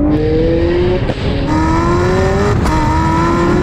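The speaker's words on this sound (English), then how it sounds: "It's like a gun going off when you change gears." Zenvo TSR-S supercar accelerating hard, its loud, close engine roar climbing in pitch and broken by two sharp gear-change bangs, the engine note resetting lower after each and climbing again.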